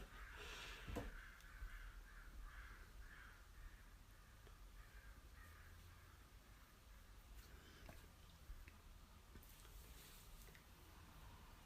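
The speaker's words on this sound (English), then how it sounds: "I hope those crows shut the fuck up." Crows cawing outdoors, a string of harsh repeated caws at fairly even intervals, some near and some farther off, over a quiet hiss of background noise.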